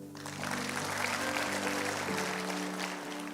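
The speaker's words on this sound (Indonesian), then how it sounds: "Tepuk tangan." A church congregation at an Indonesian sermon applauds in a steady, washy roar of clapping lasting a few seconds, with sustained musical tones humming beneath it.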